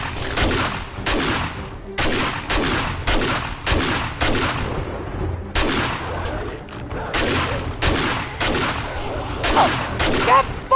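Repeated bursts of gunfire from the video game 7 Days to Die on PS5, loud rapid volleys in clustered bursts with short gaps, continuing through the whole stretch.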